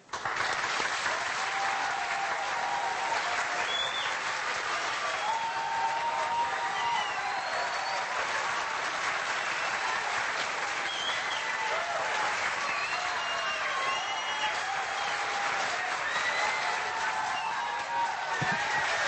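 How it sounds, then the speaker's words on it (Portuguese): A crowd applauds steadily and loudly for the whole stretch, dense clapping filling the room without a break. "O João Pereira, palmas para ele, gente"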